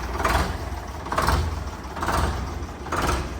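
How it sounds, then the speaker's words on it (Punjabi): A Ford 3600 tractor engine runs steadily with a low rumble, swelling in a regular pulse about once a second. "ਨਜ਼ਾਰੇਦਾਰ ਆਵਾਜ਼ ਆ ਬਾਈ ਟਰੈਕਟਰ ਦੀ"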